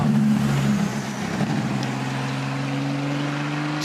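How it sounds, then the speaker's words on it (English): A Ferrari 499P Modificata race car climbs the hill at the Goodwood Festival of Speed, its steady, loud engine note holding a sustained drone as it passes close by. "Just listening to the sound of that Ferrari 499B Modificata"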